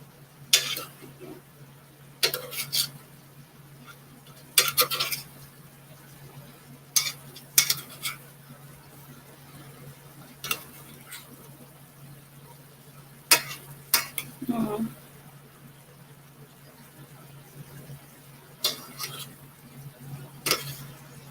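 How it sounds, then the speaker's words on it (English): Ackee and salt fish stirred in a pot, a spoon scraping and clinking against the metal in scattered bursts over a low steady hum, with a faint sizzle underneath. "Let's stir it up a little more."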